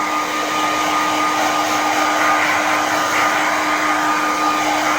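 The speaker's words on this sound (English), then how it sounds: "So let's just dry that off again." A hair dryer blows steadily on leather filler applied to a Chesterfield during restoration, a close, loud, unbroken whirring hiss that holds level with no talking.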